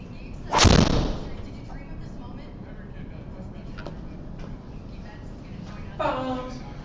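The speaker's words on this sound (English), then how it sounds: "I'm gonna go ahead and hit driver out there" A golf driver strikes the ball off the tee at Forest Dunes during a league round, one sharp loud crack near the start, then quiet outdoor ambience and a brief voice later.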